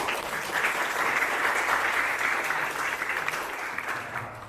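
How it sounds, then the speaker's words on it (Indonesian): Students in a classroom lesson on motorcycle disc brakes clap together in a steady, even round of applause lasting a few seconds before it begins to fade. "kita beri tepuk tangan terlebih dahulu"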